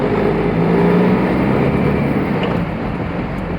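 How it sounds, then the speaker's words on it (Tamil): A 2012 Tata Aria with a Dicor diesel engine running steadily while driving, a low, even drone with road and cabin noise and no speech over it. "இன்ஜினோட சவுண்டு எந்த அளவுக்கு கேட்குதுன்னு பாருங்க"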